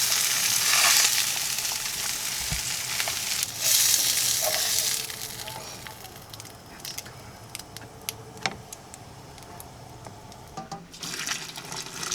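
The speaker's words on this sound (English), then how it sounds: "I'm going to move them over to my tomato sauce that's simmering to finish off to cook all the way through." Italian fish meatballs made from grouper simmering in tomato sauce in a pan, with a steady loud sizzle and bubbling close up, occasional pops and soft stirring noises, and no talk.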